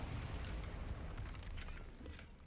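A fire spell in the Hogwarts Legacy video game lets out a heavy, rumbling whoosh of flame that roars steadily and then slowly fades.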